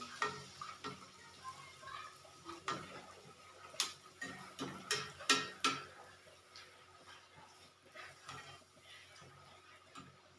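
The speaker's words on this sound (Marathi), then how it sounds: "आपण हे पुऱ्या सोडणार आहोत तापलेल्या तेलामध्ये हळुवार तेलाला थोडंसं हलवत राहायचं" Puris fry in hot oil while the oil is stirred gently, giving a soft background sizzle broken by irregular clinks and taps of a utensil against the pan, close and fairly quiet.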